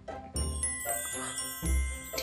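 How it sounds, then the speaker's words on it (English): Tinkling chime effect for a magic story drawer in a children's storytime show, a run of bright bell-like notes with soft thumps beneath, moderately quiet. "That was the sound of the magic story drawer."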